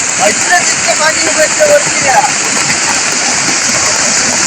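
Loud, steady rushing of a stream swollen into floodwater by heavy rain in the Konkan roars continuously while a voice speaks briefly over it near the start.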